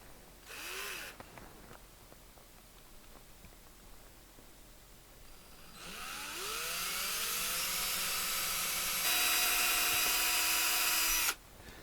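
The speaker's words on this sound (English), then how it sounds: "So I'm going to go ahead and hold and drill." Electric drill running on a Gibson Les Paul Jr. guitar body during a humbucker-to-P90 pickup swap: a short whir, a pause, then a long steady spin-up that holds and rises in pitch before cutting off abruptly, with no talking.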